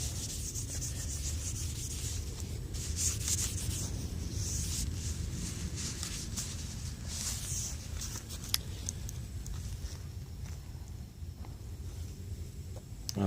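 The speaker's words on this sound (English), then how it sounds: "I'm going to just wipe off the excess wax and oil that's on there." A cloth rubs excess wax and oil off a wooden hatchet handle in a continuous, close scuffing and wiping sound with a few brief light knocks, steady throughout and without speech.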